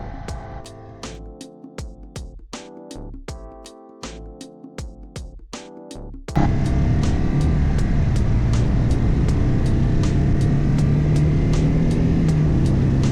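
A 2025 Indian Sport Chief RT cruiser motorcycle accelerates through the gears, its engine note pulsing in rhythmic bursts at first, then swelling into a loud, steady, close roar that fills the rest of the clip.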